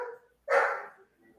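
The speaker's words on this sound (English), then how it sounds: "Dogs say hello." A dog lets out a loud, close single bark after a softer yelp, with quiet gaps around it and no talking.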